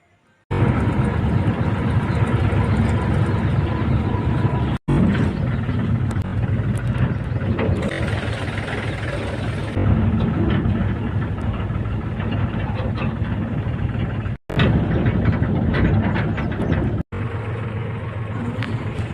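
A tractor engine running steadily while hauling an agricultural spraying drone along a rough rural track, a loud continuous rumble with rattling that cuts off briefly a few times, with no talking.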